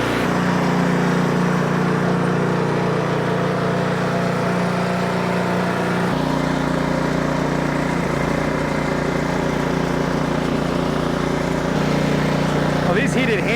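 An Ariens Professional 28 inch snowblower engine runs loud and close, a steady continuous drone that shifts pitch midway as the throttle changes, with no gaps throughout.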